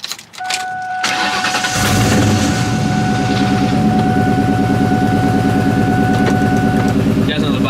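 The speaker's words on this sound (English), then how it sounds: "let's get this cold start" A 1999-2004 Ford Mustang GT V8 cranks briefly on the starter, fires and roars into a loud, rumbling cold-start idle that holds steady up close.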